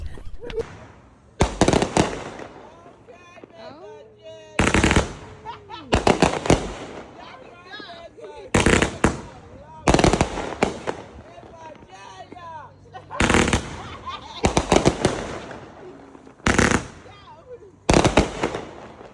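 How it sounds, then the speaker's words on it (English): Fireworks go off outdoors in sharp, loud bangs about every one to three seconds, with crackling tails after each one. People talk and call out between the blasts. "How did you like the fireworks today, ma'am?"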